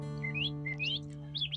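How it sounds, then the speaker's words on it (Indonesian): Male green leafbird (cucak hijau) in a breeding cage sings a few bright, rising whistled chirps in short phrases, near and clear, over a steady low hum. "cucak hijau jantan terus berkicau merayu betina"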